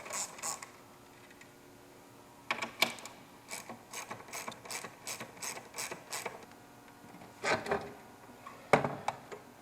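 Ratchet wrench undoing six 10mm nuts with washers from a motor, close by in bursts of rapid clicking, each run of ratchet ticks broken by short pauses as the nuts come off.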